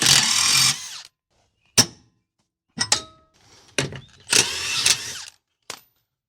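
Wrenching on a camper trailer axle bolt with a 13/16 socket: several separate bursts of harsh ratcheting and metallic clanks, close and fairly loud, with quiet gaps between them.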